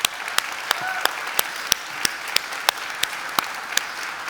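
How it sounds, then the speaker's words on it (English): Audience at a Jewish Federation annual meeting in Cincinnati gives a round of applause, with a wash of clapping and evenly spaced sharp, prominent claps standing out near the microphone. "give a round of applause to everything you do to make this community so great"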